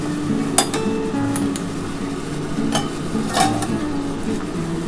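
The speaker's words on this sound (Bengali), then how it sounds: "একটু ঢাকাটা খুলে দেখছি বন্ধুরা।" Metal lid lifted off a steaming pot of duck egg bhapa, giving a few light clinks and taps against the rim over a steady background hiss, fairly close and moderately loud.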